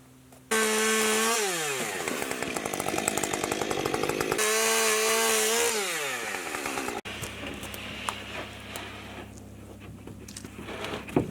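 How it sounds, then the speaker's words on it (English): A power saw cuts 4x4 lumber posts level while a chicken coop is built, roaring loud and close as the motor revs up and bogs down through two passes, then a quieter rumbling idle continues. "the next step is to chop off those 4x4s level"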